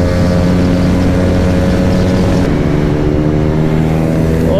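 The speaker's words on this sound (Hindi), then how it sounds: "इन दोनों बाइकों की ड्रैग रेस करवाएंगे हम सेत्रा में" Modified Yamaha R15 and Jawa 42 motorcycles in a drag race give a loud, sustained engine roar with a strong steady drone, rising slightly near the end, close and continuous without speech.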